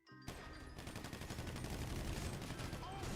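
Gunfire in a GTA roleplay game erupts after a moment of quiet into a dense, continuous burst of rapid shots that keeps going to the end.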